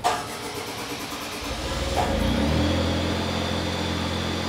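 The engine of a new Sapphire Scientific truck-mounted carpet-cleaning machine cranks and catches, then settles into a loud, steady mechanical running hum with a low rumble, close by.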